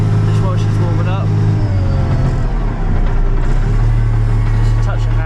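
FV180 Combat Engineering Tractor diesel engine running at a slightly raised fast idle on hand throttle while warming up and building air pressure, a loud, close, steady low rumble with a faint higher whine over it.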